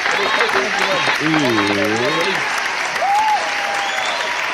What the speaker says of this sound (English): Give it up one time for Cypress Hill.